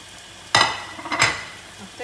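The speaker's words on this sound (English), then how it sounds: "So we'll add the fish now." Fish dropped into cooking sambal in a pan, two sharp sizzling bursts about half a second apart, each fading into a softer frying hiss, close and loud, with no one talking.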